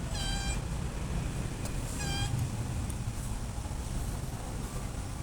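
A mother cat that has just given birth to kittens meows twice, each call a short, bright and fairly close cry, over a constant hissy background with no talking.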